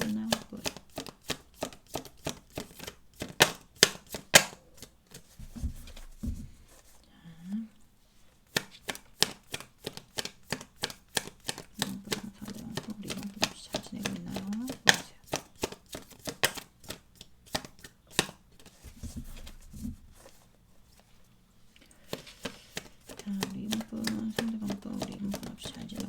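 Tarot cards shuffled by hand in quick, crisp riffling bursts, pausing briefly now and then before starting up again, close and fairly loud throughout.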